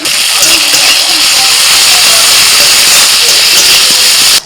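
Ginger and garlic paste hitting half-fried chopped onions in a hot pan, giving a loud, dense, continuous sizzling hiss that holds steady throughout and cuts off at the end.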